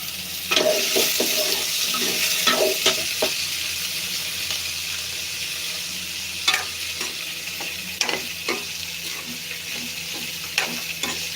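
Potatoes frying in a pan with panch phoron spices, a steady sizzle with repeated sharp scrapes and clinks of stirring, close up and with no talking.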